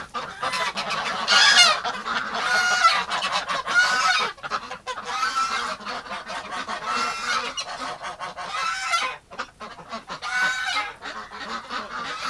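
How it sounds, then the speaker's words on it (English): A flock of geese honking loudly and agitatedly, with overlapping harsh calls and squabbling that rise and fall across the whole stretch, no talking. "Oh, the geese are fighting each other."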